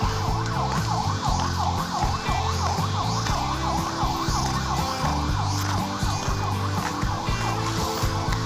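The Ihan Batak ferry at Ajibata port on Lake Toba sounds a loud, steady wavering horn or siren signal to call passengers, continuous over a deep engine rumble with no talking.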